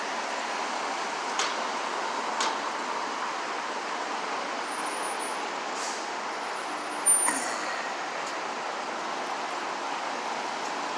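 Buses and traffic fill a New York City bus terminal with a constant, fairly quiet roadway rumble, broken by a few short hisses and one brief louder burst, like air brakes releasing.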